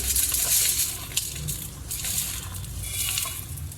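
Dry-roasted puffed rice for pori urundai rattles and patters steadily as it is poured and scraped into a bowl, a continuous crisp rustle with no talking.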